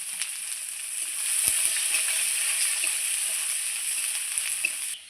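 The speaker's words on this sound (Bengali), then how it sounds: "এইবার দিয়ে দিব পেঁয়াজ কুচানো।" Chopped onions and whole peeled garlic cloves frying in oil for an elephant foot yam curry, a steady close sizzle with a few soft knocks of a spoon against the pan.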